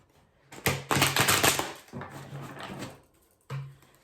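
Close, papery rustling and scraping of tarot cards being shuffled by hand, in uneven bursts with a brief pause and one final short shuffle.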